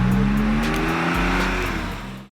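Porsche 911S engine running loud and close, a steady deep rumble with strong low harmonics and a rising revving tone throughout, ending abruptly with no talk.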